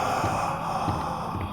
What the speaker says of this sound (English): it's actually not whispering, it's more of labored breathing